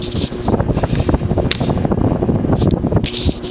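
A 52-inch Edison/Toastmaster belt-drive ceiling fan running at full speed, giving a steady, loud whooshing rush of moving air with a continuous low rumble and faint airy fluttering throughout.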